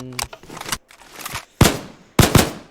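MP9 firing in the Timeless and Classics Gun Mod for Minecraft: a few quieter clicks and short bursts, then two loud, sharp shots about half a second apart, each with a rough tail.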